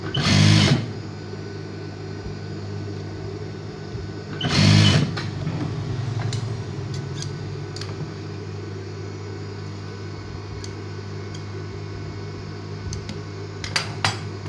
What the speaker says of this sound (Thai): แล้วก็มาเย็บ